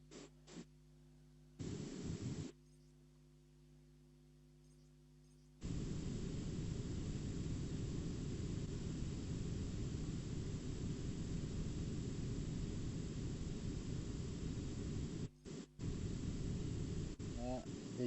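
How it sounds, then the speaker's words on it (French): Aircraft engine drone in the mobile shooter Call of Duty Mobile, a loud, steady broadband roar swelling in after a few seconds and holding for most of the clip, with brief dropouts near the end and speech over it. "Ah, véhicule aérien."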